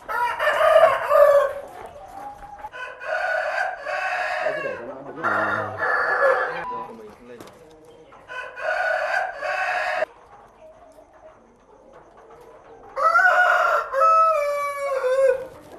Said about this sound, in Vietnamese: con gà này là con gà đông tảo tương đối thuần chủng